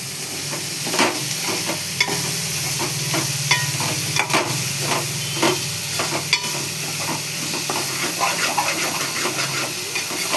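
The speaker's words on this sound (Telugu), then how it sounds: "తర్వాత బీరకాయ ముక్కలన్నీ వేసుకొని కలపాలి, మంచిగా మగ్గించాలి" Ridge gourd pieces stirred and cooked in a pan, a constant loud sizzle and hiss with scraping spoon strokes and occasional clinks against the pan.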